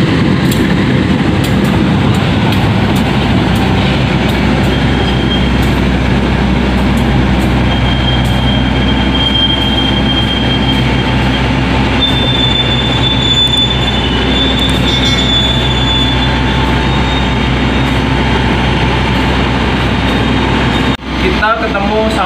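A Sawunggalih Utama express passenger train rumbles past loudly and continuously, wheels grinding and squealing on the rails, with a person speaking faintly under the din.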